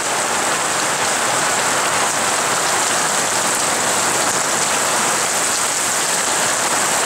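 Heavy rain pours down in Vanuatu after months without rain, a loud, continuous dense hiss of drops hitting surfaces and containers, steady throughout with no voices.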